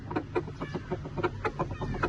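Aseel chickens, a rooster and a hen, cluck steadily in a run of short, close, evenly spaced calls, with a faint low hum underneath and no voices.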